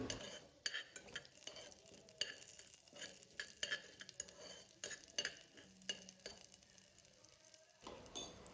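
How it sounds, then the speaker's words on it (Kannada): Chopped curry leaves and garlic fry in oil in a pan for a baby's lunch, a steady low sizzle with repeated scraping spatula strokes and light clinks of metal, close and even throughout, no voices. "3 ಕರಿಬೇವಿನ ಎಲೆನ ಸಣ್ಣದಾಗಿ ಕಟ್ ಮಾಡಿ ಹಾಕ್ಕೊಂಡು ಚೆನ್ನಾಗಿ ಫ್ರೈ ಮಾಡ್ಕೊಳ್ಳಿ"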